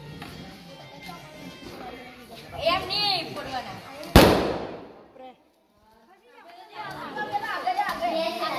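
At a Dwarkadhish haveli Annakut celebration, children chatter and shout before one sharp, loud firecracker bang cuts through, followed by a brief hush and then excited voices return.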